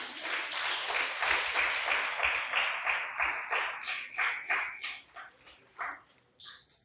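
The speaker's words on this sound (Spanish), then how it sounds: "Den un fuerte aplauso al Señor" A church congregation claps in praise during a Spanish-language service. The applause is strong at first, then thins into scattered, separate claps as it dies away.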